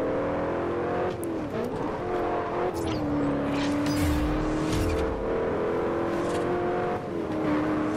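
Race cars in a Forza Horizon race roar close by with steady high engine drone and rising and falling revs, plus tire squeal and other cars sweeping past, continuous and loud throughout.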